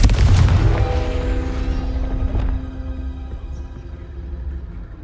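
A fire spell detonates in the Hogwarts Legacy video game with a heavy booming blast at the start, then a lingering rumble and ringing tonal tail that fade over several seconds.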